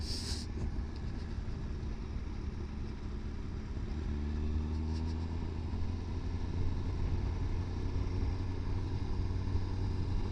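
A 2017 Suzuki GSX-R1000R motorcycle riding uphill gives a steady engine drone with a rising tone partway through, heard near and continuous alongside rushing wind, no talking.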